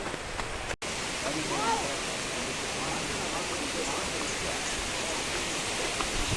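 A waterfall rushes steadily and fairly softly as a broad, even wash, with a brief dropout near the start and people talking faintly over it.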